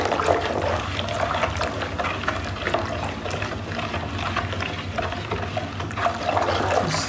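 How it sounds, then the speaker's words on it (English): Homemade bleach solution is stirred in a container, giving a continuous close sloshing and swirling of liquid at a steady, moderate level. "Stir it very well and make sure everything is mixed up properly."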